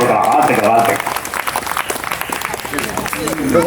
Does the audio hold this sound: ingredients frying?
no